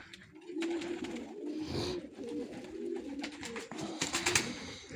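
Young homing pigeons cooing in a loft, a low, continuous warbling murmur with occasional wing flutters and scratchy movement close by.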